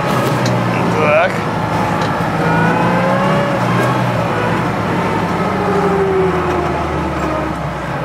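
Car with a manual gearbox run without oil rattling as it pulls away, a steady engine drone rising slightly with faint clatter underneath, close by, with people talking over it.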